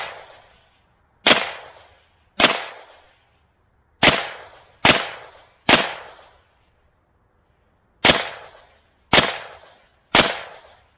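Nine sharp, loud gunshots from a Brigade BMF AR9 fired into 2x8 lumber, spaced irregularly about a second apart, each crack followed by a short decaying echo, with no talking.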